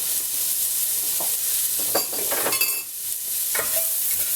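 Food sizzles and fries in hot olive oil and grease in a pan with the flame off, with scraping and tossing noises over a steady, loud frying hiss.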